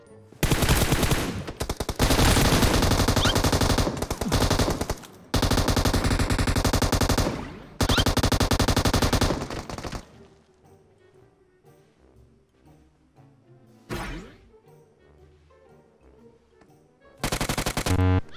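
Automatic gunfire in the mobile battle royale game PUBG Mobile, long loud sustained bursts of rapid shots broken by short pauses, then quiet game ambience with a single later burst and a final volley.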